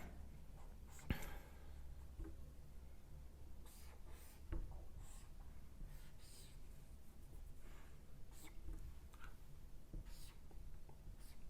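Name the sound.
writing a chemistry example on a board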